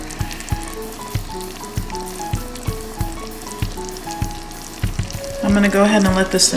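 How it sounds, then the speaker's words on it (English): A pot of Korean braised short ribs (galbijjim) bubbles and sizzles with a regular series of thumps and pops, then a louder, denser sizzle swells near the end; moderately close and loud, with no talking. "I'm gonna go ahead and let this simmer"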